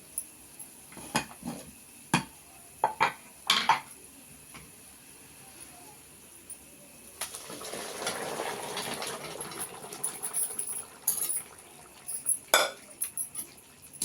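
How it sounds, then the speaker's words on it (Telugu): Mutton trotters (paya) poured into fried masala in a pan: scattered utensil clinks, then a steady sizzling hiss for a few seconds as the liquid hits the hot pan, followed by more sparse clinks. "ఇప్పుడు ఈ మసాలా అంతా బాగా వేగిపోయిందండి ఇప్పుడు మటన్ పాయ పోసుకుందామండి"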